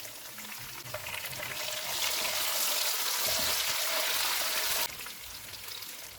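Tomatoes drop into golden-fried onions in a pan on low heat, the sizzle swelling louder for a few seconds and then easing back to a gentle, steady fry, with no talk.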